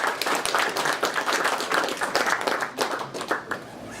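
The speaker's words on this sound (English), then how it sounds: "I think we'll see a great big round of applause." A modest audience at a mentorship training session gives a round of applause, many hands clapping briskly and close for several seconds before thinning toward the end.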